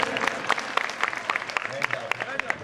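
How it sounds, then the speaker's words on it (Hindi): Clapping from an audience at a religious festival gathering, a mix of irregular sharp hand claps at close range with murmuring voices mixed in underneath. "तालियां बजाओ इसके लिए।"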